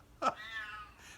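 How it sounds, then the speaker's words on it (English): A single short, strained yowl from an old cat, faint and somewhat distant, rising and then trailing off. "y'all hear this thing screaming in the background"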